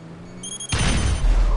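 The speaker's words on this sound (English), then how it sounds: "Dude, this thing is gonna make the ultimate explosion." A large in-game blast from about twenty proximity mines set off together in a GTA video game, erupting suddenly into a loud, sustained roar with heavy low rumble after a quieter stretch.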